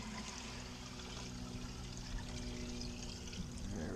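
Water pours steadily from a can onto garden corn while watering with diluted organic fish emulsion, a constant close splashing trickle throughout.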